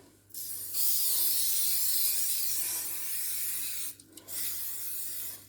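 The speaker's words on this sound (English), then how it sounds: "I'm going to do it with a spray." Cooking oil spray aimed into a Kmart pie maker before baking chicken pot pies: a close, steady hiss of roughly three seconds, a short pause, then a second briefer burst of spray, with no talking.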